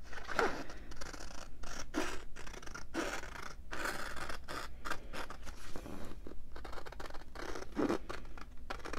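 Scissors snip through a paper journal envelope, giving a steady run of close, crisp cuts with short pauses between them, heard alone with no talking.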